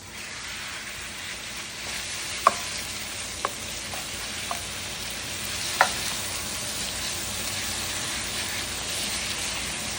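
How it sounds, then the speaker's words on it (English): Beef frying in avocado oil in a smoking-hot wok, a constant close sizzle and hiss broken by a few sharp pops or utensil taps. "in my wok that is just now starting to smoke, I'm going to go in with some neutral oil. I'm using avocado oil. And I'm now going to start to cook off my meat."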